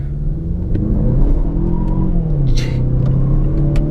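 A 2018 Mazda6 sedan accelerates hard with its front wheels spinning, the engine note climbing in a rising, rumbling drone, heard from inside the cabin with no talking.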